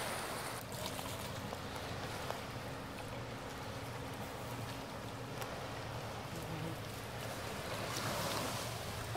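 The St. Croix River at Afton State Park makes a faint, steady wash of flowing water that continues evenly from start to finish with no voices.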